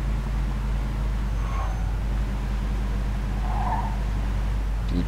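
A car in Mafia 2 drifts through turns, with two brief tire squeals over a steady low engine hum.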